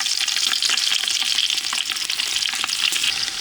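Green chillies frying in hot oil for village-style Karnataka mutton biryani, a loud continuous sizzle close by with occasional stirring clatter.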